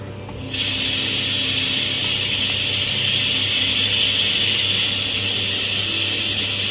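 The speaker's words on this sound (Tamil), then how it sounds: "முந்திரி பருப்பு இதில் வறுத்து நான் போட போகிறேன்." Cashew nuts frying in hot ghee, a loud steady sizzle that starts suddenly and holds as a dense hiss throughout.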